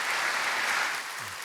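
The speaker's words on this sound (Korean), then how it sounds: "박수 한번 하겠습니다." A church congregation claps together in a dense, steady burst of applause that eases slightly toward the end.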